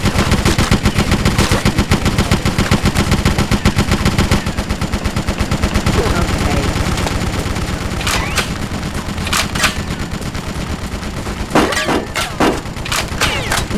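BloodRayne video game combat with loud, rapid automatic gunfire in dense repeated bursts for several seconds, then thinning into scattered sharp single shots and impacts, mixed with faint voices.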